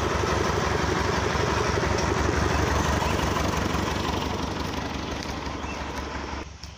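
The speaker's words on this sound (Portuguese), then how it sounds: "Aí que é um trator velho de respeito!" An old CVT tractor engine runs steadily at a fairly loud level, with a continuous low throbbing drone. It fades slightly and cuts off near the end.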